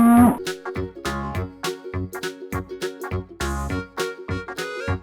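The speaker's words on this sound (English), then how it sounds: "Cow." A cow lets out a series of short, loud moos in a regular rhythm, set over steady background music.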